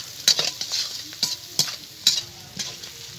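Egg chilli seasoned with salt, dried chilli powder and black pepper sizzles in a pan as a utensil stirs it, giving several sharp scraping strokes over a steady fry hiss, close up.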